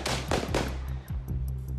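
Handgun gunshots ring out in a quick cluster: three or four sharp cracks close together, then a couple of fainter pops as echoes die away, with no talk.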